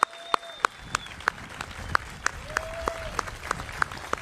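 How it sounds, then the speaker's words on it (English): Sparse, evenly spaced handclaps from a small audience at a National Vietnam War Veterans Day ceremony honoring Vietnam veterans, fairly faint, with a thin steady tone lingering in the background. "So let's give them another real great round of applause for their service."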